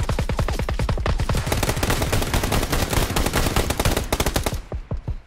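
Automatic gunfire rings out in the PUBG video game on PS4 Pro: a long rapid burst of loud, evenly spaced shots, then a few scattered single shots as the firing tails off.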